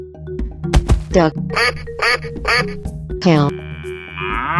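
In a 3D animal slide game, a cartoon duck gives a run of loud, nasal quacks, four or five in quick succession. Game chimes and a bright tone ring around them.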